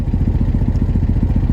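A VW 1800 engine idles steadily inside a car at about 950 rpm, a low, even, rhythmic mechanical throb that is fairly quiet and close, with no voices over it.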